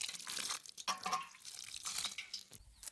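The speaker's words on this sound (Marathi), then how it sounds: "तरी पण पाणी घालू का आपण" Water splashing steadily from a pot or hose onto plants in a farm plot, a close, continuous pouring and trickling with a few brief louder gushes.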